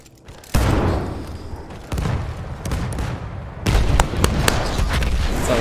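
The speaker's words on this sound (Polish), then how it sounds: "całe działo wysadzili" A cannon being blown up with explosives in the video game Battlefield 1, heard as several loud close booms and heavy blasts in quick succession over a rumbling battlefield background.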